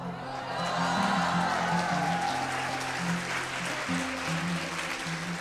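Audience applause fills a hall at an IG Metall women's conference, a steady, dense clapping wash that holds for several seconds with a low hum underneath.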